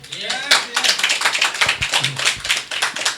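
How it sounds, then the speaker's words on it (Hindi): Church congregation claps for Jesus in a lively, rhythmic patter of close handclaps lasting a few seconds, with voices mixed in underneath. "अब यहां यीशु के लिए ताली"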